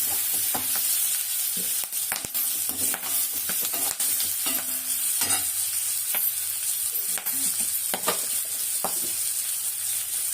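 Food sautéing in a pan for breakfast, with a steady close sizzle throughout and the scrape and clatter of a spoon stirring at an irregular pace. No talking.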